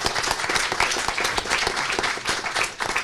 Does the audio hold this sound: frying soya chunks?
no